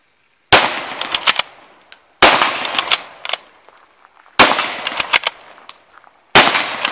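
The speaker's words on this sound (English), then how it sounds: "So this will be 50 yards standing up, kind of rapid fire." Four loud, close rifle shots from a French MAS 36, fired standing at 50 yards in rapid succession about two seconds apart, each followed by bolt clatter and ringing echo.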